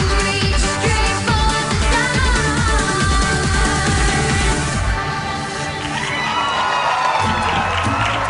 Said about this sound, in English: Everyone was clapping for you.